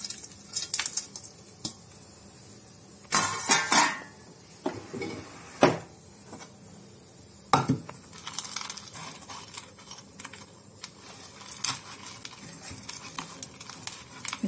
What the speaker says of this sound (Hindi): अब इसमें हम ये ड्राई फ्रूट से डाल रहे हैं